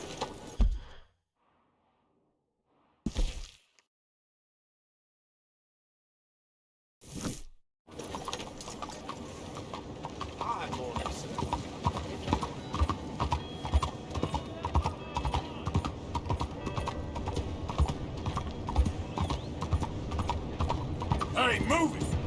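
Horse hooves clip-clopping at a steady gallop in Red Dead Redemption 2, starting after a few brief bursts of sound and silence, then a continuous rhythmic pounding with occasional voices.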